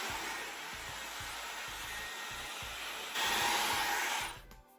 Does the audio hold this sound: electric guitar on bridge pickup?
no